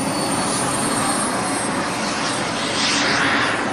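A large BAE Hawk Mk66 RC scale model turbine jet comes in on approach, a loud, steady roaring hiss that holds without a break and swells slightly toward the end.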